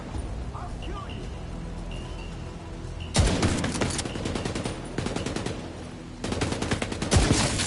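Video game gunfire on a PS4 shooter comes in two loud bursts of rapid automatic fire after a quieter stretch of background game ambience.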